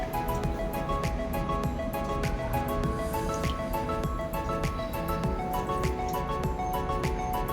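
Plants being watered in summertime Dubai, heard as continuous close splashing and pattering of water with scattered drips over a busy background.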